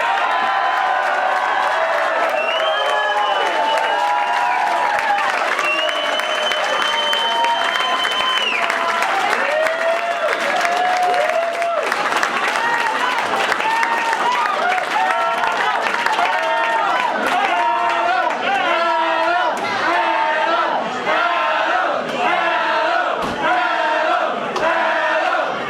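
Crowd at a rally applauding and cheering for a speaker, a dense continuous roar of clapping with shouts and whoops sustained throughout, loud and close, with voices calling out over it.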